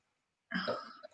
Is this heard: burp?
yes